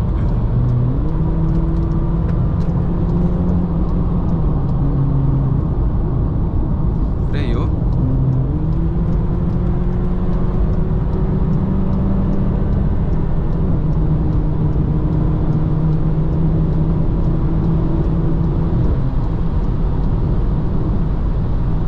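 A Honda Civic 2.0 accelerates in a steady engine drone with rising and shifting tones, heard close and fairly loud throughout, while people talk over it.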